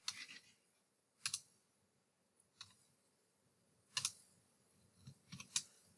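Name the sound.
typing on a computer keyboard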